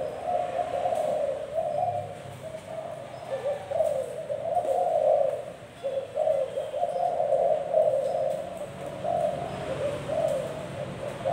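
A pair of zebra doves coo steadily in a repeating, rolling rhythm, close and clear over a faint background hiss, with no talking.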